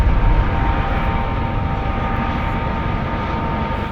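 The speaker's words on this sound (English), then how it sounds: "Call a Coast Guard helicopter that's hovering over my cabin." A Coast Guard helicopter hovers over a cabin in coastal Alaska, giving a loud, continuous engine and rotor roar from close overhead that stays steady and fades slightly toward the end.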